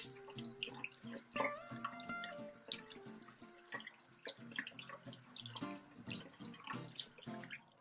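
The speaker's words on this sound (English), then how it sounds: "you really want to make sure that you rinse it out and that all of the soap and oil is out" A soapy makeup brush is rinsed under running water from a tap, with a steady, quiet splashing and trickling stream and small drips throughout, close by and with no voices.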